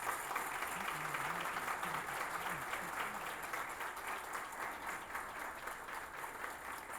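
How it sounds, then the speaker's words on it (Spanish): Audience at an event celebrating the national industry applauds after a speech. The clapping is sustained, even and fairly distant, with a faint voice briefly audible beneath it. "Merecido el aplauso para el señor Brache."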